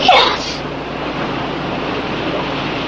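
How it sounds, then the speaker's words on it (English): Ocean waves crash and churn inside a sea cave, a steady broadband wash of rough, surging water that follows a brief sharp burst at the start. "The waves were higher and harder."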